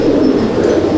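A Madraasi pigeon coos in a continuous low, throaty murmur, close and fairly loud, filling the whole moment on its own.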